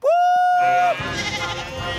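A young sheep on a farm in a Thomas & Friends cartoon lets out one loud, sustained wavering bleat, followed by a softer, noisier rumble from a steam engine.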